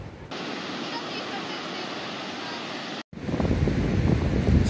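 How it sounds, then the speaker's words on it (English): Crashing ocean waves and steady wind roar loudly at Maspalomas Lighthouse, a continuous wash of surf and wind noise, briefly cut out near the three-second mark, then returning louder and rougher. "Hope you can hear me over the crashing waves."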